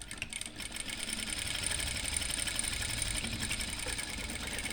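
Sewing machine stitching a petticoat, a steady close whirring hum with fast needle rhythm running continuously throughout, with no voices over it.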